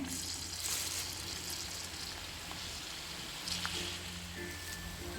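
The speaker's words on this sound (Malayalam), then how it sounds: "കടുക് പൊട്ടി വരുന്നുണ്ട്" Dense, continuous crackling and popping of mustard seeds spluttering in hot oil, a steady sizzle with no talk.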